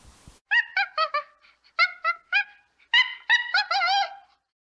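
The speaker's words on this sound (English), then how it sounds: "It's the sound of a monkey, Billy the monkey" A series of loud, rapid hooting calls in short grouped bursts, rising and repeating like an excited monkey chattering, alone against silence.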